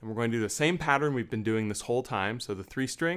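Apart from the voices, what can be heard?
No everyday noises stand out.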